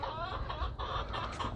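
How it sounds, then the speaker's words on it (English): Farm chickens cluck behind the listener, a short run of soft, close, overlapping clucks with no voices. "Chickens behind me are talking to me."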